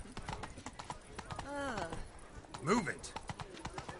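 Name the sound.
horse Roach's hooves clip-clopping in Witcher 3 video game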